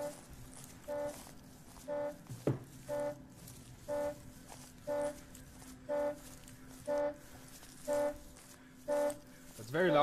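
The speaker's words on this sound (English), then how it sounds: "Oh, my car is beeping. Why is my car beeping?" A car alarm in a horror video game gives a steady series of short, evenly spaced honks, about one every second, with a faint background hum and a brief clatter in between.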